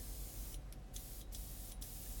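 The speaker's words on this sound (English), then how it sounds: "It doesn't spray out as good." A cheap paint spray machine blows air through its nozzle without paint, a steady close hiss interrupted by a few short bursts.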